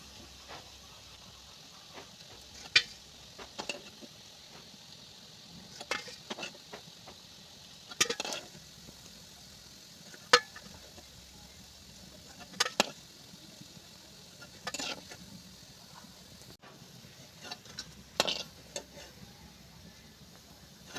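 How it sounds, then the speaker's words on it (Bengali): Chickpea fritters (chola bora) deep-frying in oil, giving a steady, faint hiss broken by occasional sharp clicks and scrapes, with no talking. "ছোলার বড়া লাল লাল করে আমার খুব সুন্দর মতো করে ভাজা হয়ে গেছে"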